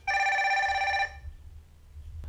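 A Fire-Boltt Ninja Bell metal-build Bluetooth-calling smartwatch rings with an incoming call, a bright electronic ring lasting about a second, then stopping into a quiet room with a soft handling bump at the end.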